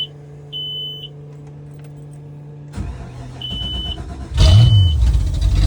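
A 2000 Donzi 26ZX boat engine cranks and catches at close range after a steady blower hum and short electronic beeps, then rumbles loudly as it fires up, with a few more beeps over the running engine.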